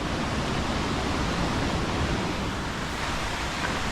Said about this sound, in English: We now are crossing over the top of the waterfall on a rickety old bridge.